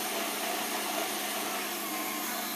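An electric mixer beats baking batter until creamy, a loud, steady, even whir running without pause and with no talk.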